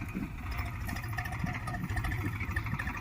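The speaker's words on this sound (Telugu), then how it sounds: "ట్రాక్టర్తో ఈ విధంగా దునిపిస్తాం అన్నట్టు" A tractor ploughing a cotton field in summer runs its engine in a steady, close chugging drone, rumbling evenly with slight fluctuations and no voices.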